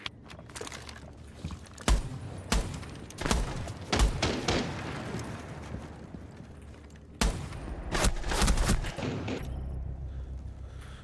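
Video game gunfire rings out in loud sharp shots and short volleys, spaced across the clip with a denser burst near the end and quieter noise between.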